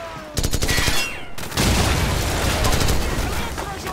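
Call of Duty 4: Modern Warfare gunfire rattles in loud automatic bursts, a rapid stream of close shots with a brief pause before heavier sustained firing resumes amid battle noise.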